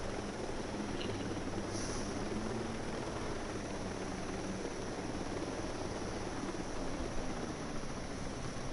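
Helicopter on the ground in a military shooter video game, a dense steady rotor and turbine roar holding at constant loudness throughout, close and loud with no voices.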